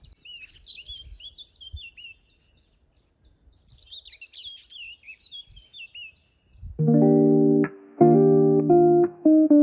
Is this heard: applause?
no